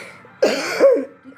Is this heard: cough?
yes